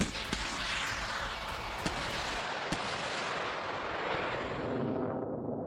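Missile test firing gives a long, loud, continuous roaring rumble with a few sharp cracks that fades slightly toward the end, with no speech.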